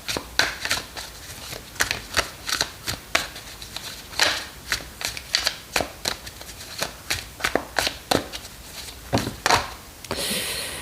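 A deck of playing cards is shuffled repeatedly, making a long run of quick, close riffling bursts, each a crisp papery flutter, with a brief louder rustle at the end.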